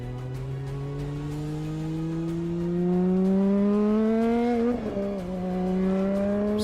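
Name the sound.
race car driving on the Top Gear test track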